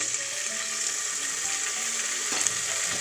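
Small peeled, finely chopped potato pieces frying in oil in a pan for masala rice, a steady bright sizzle running throughout with a faint stirring scrape near the end.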